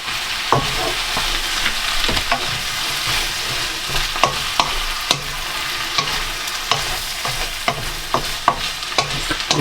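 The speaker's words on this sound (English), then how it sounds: "Let's get our lentils in, stir those through." Lentils being stirred into a beef, mushroom and leek pie filling in a pan, with a steady low sizzle and repeated scraping spoon strokes and clacks against the pan, close and alone with no talk.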